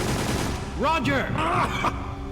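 A soldier's gunfire in the PS2 game Extermination, short bursts of shots mixed with game effects and a groaning, pitched cry, moderately loud across a few seconds.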